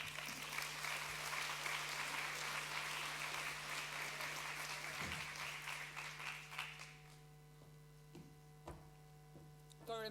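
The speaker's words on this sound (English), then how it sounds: "So I think that applause was for you, Joe, there now." Conference audience applauding after the opening by the Irish Minister for Higher Education at an online learning world conference, sustained clapping for several seconds that thins to scattered claps over a steady electrical hum.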